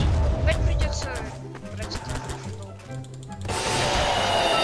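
Gunfire in the Garry's Mod video game during a co-op FNAF animatronics round: bursts of rapid, fairly soft shots mixed under excited players talking.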